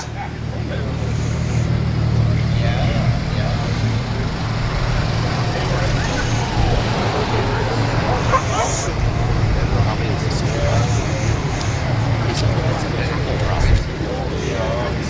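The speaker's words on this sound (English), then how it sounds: "We got a couple Prowlers rolling in." Plymouth Prowlers roll in at a classic car show, a steady low engine and road rumble running the whole time under crowd chatter and nearby talk.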